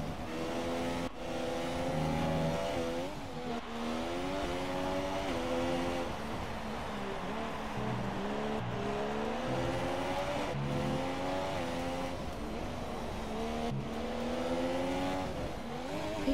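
Race car engine in the F1 2017 video game, a steady loud drone with rising and falling revs through gear changes, sustained throughout with no talk.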